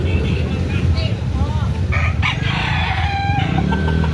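A rooster crows several times at close range, loud drawn-out calls over clucking and outdoor background, with people talking over and between the crows.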